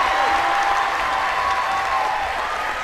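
A softball stadium crowd at a college game between LSU and Louisiana applauds steadily, a dense sustained clapping wash with a faint background tone and scattered voices.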